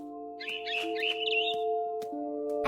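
Bird chirping from the video game What Remains of Edith Finch: a run of quick high tweets and trills, fairly close and clear, over a steady low hum of game ambience with occasional soft clicks.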